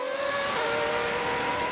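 An FA1 race car on an ultra-low-downforce setup scrubs speed hard under braking from around 160 mph, a loud, close, sustained engine and tire roar with a falling pitch that carries for under two seconds.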